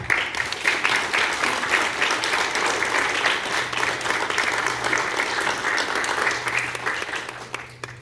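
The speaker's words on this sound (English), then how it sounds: "if you would join me in just a round of applause as a thank you to them" Audience at a veterans' honoring ceremony breaks into a sustained round of applause, dense steady clapping holding for several seconds before tapering off at the end.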